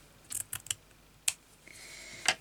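Scissors snip through sewing thread during slow hand stitching: a handful of short, crisp, close clicks spaced irregularly, with quiet gaps between.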